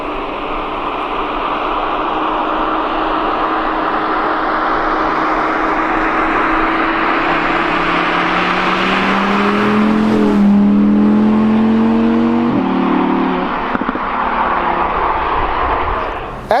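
Audi R8 sports car engine running loud and close as it drives and revs, the pitch climbing through several gear-like rises before dropping and then climbing again.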